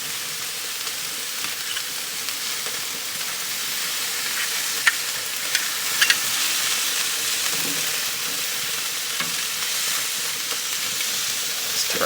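Beef sirloin tri tip shish kebabs sizzling over an open fire, a steady close crackling hiss with occasional sharp pops and light scraping.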